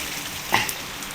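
Light ordinary rain outdoors, a steady soft patter and hiss with one brief slightly louder splash or drip in the middle, calm and continuous.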